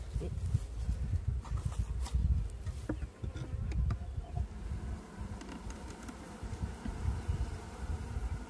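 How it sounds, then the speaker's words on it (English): Honeybee swarm housed in a nucleus hive and thought to be queenless gives a steady, close buzzing hum throughout, with a low rumble underneath and no talking. "I'm gonna say, by the look and sound of that, that these bees are queenless."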